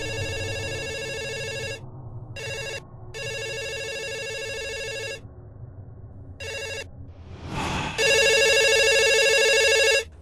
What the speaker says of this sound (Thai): สักพักก็มีเสียงโทรศัพท์ดังขึ้น